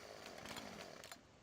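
A chainsaw runs in the Farming Simulator 15 video game with a loud, steady, raspy buzz that holds for over a second, then drops away abruptly near the end.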